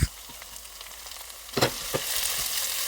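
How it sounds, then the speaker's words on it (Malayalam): Ginger, garlic and green chili sautéing in hot oil for a green apple pickle, a steady close sizzle with a few sharp spatula scrapes partway through, swelling slightly louder toward the end. "ഇഞ്ചി നല്ല ബ്രൗൺ കളർ ആയി കഴിയുമ്പോഴേക്കും നമ്മൾ ചെറുതായിട്ട് കട്ട് ചെയ്ത് വെച്ചേക്കുന്ന വെളുത്തുള്ളിയും പച്ചമുളകും 1 മിനിറ്റ് മാത്രം വന്നിട്ട് വഴറ്റിയെടുക്കാം"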